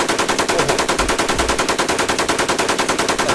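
M4 rifle fire in a shooting video game: one loud, unbroken stream of rapid automatic shots with an even, fast rhythm lasting the whole stretch, with no talking.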